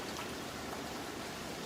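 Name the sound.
balsamic vinegar poured over sauteing spinach and mushrooms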